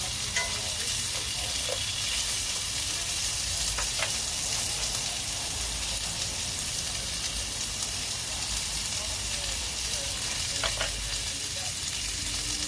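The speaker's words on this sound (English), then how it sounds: "Get a good sear on that, baby." Meat sears in a hot pan, filling the air with a loud, continuous sizzle and crackle, with occasional faint scrapes over the steady frying hiss.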